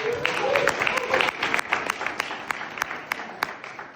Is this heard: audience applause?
yes